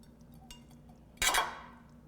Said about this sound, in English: So I think it's time now to dish up the soup